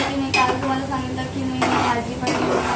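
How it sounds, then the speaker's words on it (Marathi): Chopped vegetables being sautéed in a pan at home, with a spatula scraping and clanking against the metal over a continuous sizzle, close up, with no talking. "तर चला आता मम्मी शूट करते आणि मी परतते"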